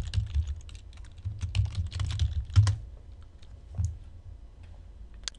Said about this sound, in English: And I'm going to type in health and music as we did before.